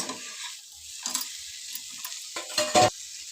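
Mixed vegetables frying in oil in a pan for a dhaba-style sabzi, soft crackling sizzle with a few louder stirring scrapes and clatters near the end, no talking.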